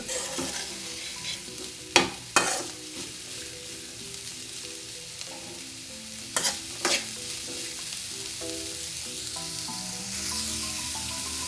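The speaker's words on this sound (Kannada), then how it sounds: "ಸ್ವಲ್ಪ ಹೊತ್ತು ಎಣ್ಣೆಯಲ್ಲಿ ಹುರಿಯಿರಿ ಉರಿ ಮೀಡಿಯಮ್ ಇರಲಿ" Crushed garlic fries in oil over medium heat for a village-style bitter gourd palya, a steady soft sizzle broken by a few sharp spatula scrapes and knocks against the pan, no voices.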